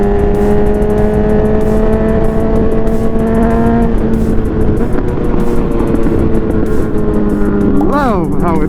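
Honda CB1000R motorcycle engine revving hard on a dyno, a loud steady high-rpm roar that climbs then drops with a quick blip near the end, close and constant, with talk beneath.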